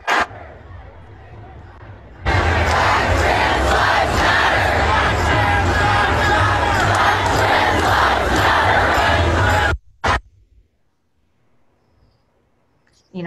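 A large crowd of protesters in Portland roars in a dense, continuous wall of voices for several seconds, then cuts off abruptly into near silence.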